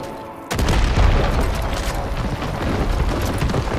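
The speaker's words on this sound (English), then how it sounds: "I'm blowing up your stupid statue." In Far Cry 5, a statue is blown up with a sudden loud explosion after a quiet moment, followed by a heavy, sustained rumble and crumbling debris that carries on for several seconds.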